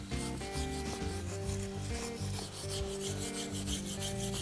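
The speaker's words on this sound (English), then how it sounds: "This is a brass brush. Just gonna see how bad that rust is." A brass brush scrubs rust off a metal intake piece, a quick continuous rasping rub heard close but quiet, under a steady bed of music.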